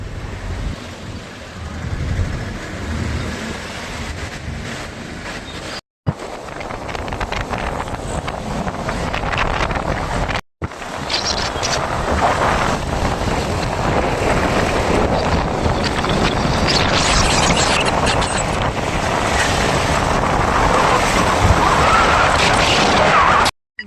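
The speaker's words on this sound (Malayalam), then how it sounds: "നമ്മളിനി വണ്ടി ഓടിച്ചു തുടങ്ങുന്നു" Car driving through Kottayam town by a learner driver, a steady loud rush of road and wind noise buffeting the microphone throughout, with brief cutouts and no talk.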